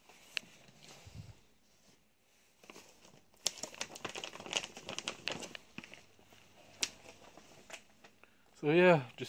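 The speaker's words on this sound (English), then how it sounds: "just taking out all the paper and things inside of this plastic bin, just putting this paper to the side" Paper and plastic crinkle and rustle as items are pulled out of a plastic bin and sorted, with irregular crackling bursts throughout and a brief squeaky scrape near the end, all close to the microphone.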